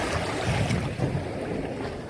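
Dense, roaring sea surf and wind at a beach wash over the scene in a continuous, fairly loud churn, with no voices.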